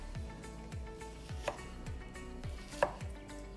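A knife chops vegetables on a board for a fresh red beet salad, in a steady, even rhythm of about two soft strikes per second, fairly quiet and close, with no talking.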